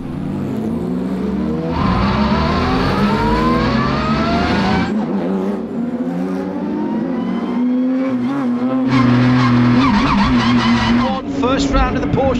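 Porsche 992 Carrera Cup race cars at Sebring during the first round of Porsche Carrera Cup North America, engines loudly revving and sweeping through gears in repeated rising pitches, with cars passing near and a commentator talking over the racket throughout.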